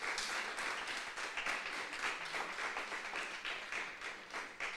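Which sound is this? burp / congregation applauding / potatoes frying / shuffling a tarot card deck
congregation applauding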